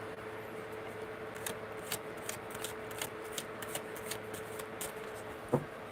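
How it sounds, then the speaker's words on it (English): Tarot cards being shuffled at a live reading: soft, fairly quiet riffling and rubbing with repeated light flicks and a sharper tap near the end, no talk. "There's just cards like flying out."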